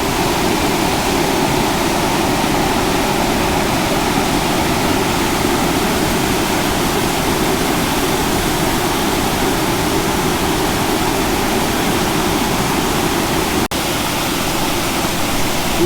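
Close and loud, a waterfall along the Kolhapur route in Maharashtra pours in a constant, dense rush of falling water that holds evenly from start to finish.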